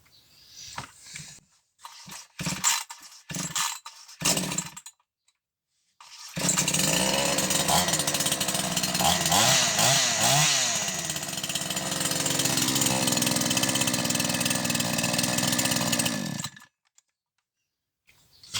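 A Lisgosp chainsaw that smokes heavily gets a test start: a few short pulls and sputters, then the engine catches and runs loud and steady with rising and falling revs for about ten seconds before cutting off.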